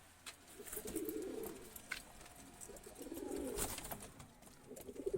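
Madrasi pigeons coo softly in repeated low, throaty bursts, close by and quiet, with light rustling and a few faint clicks between calls.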